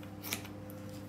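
Scissors snip through fabric while a board is being covered, one short close cut with a crisp bright click, alone over a steady low background hum.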